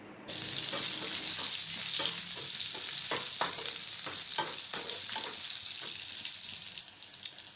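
Cut green chillies hit hot oil in a pan over medium heat, setting off a loud, dense sizzle that crackles steadily and slowly eases, with a few stirring scrapes and a clink near the end.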